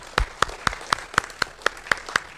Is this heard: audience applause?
yes